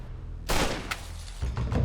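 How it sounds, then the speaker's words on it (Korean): Gunshot sound effects in a rural barley field: two sharp booming blasts with a ringing tail after each, over a low background rumble. "1890년 7월 27일 프랑스의 한 농촌 보리밭에서 들린 총성"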